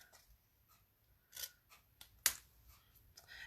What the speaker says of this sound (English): Let's get our big scissors. I'm gonna trim this out one more time,